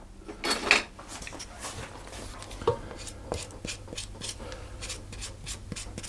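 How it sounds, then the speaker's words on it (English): A spoon scraping and stirring sticky pfeffernusse cookie dough with egg in a bowl, close-up irregular rubs and clinks of metal against the bowl, no talking. "And mix that in. And for that, I'm going to use a spoon."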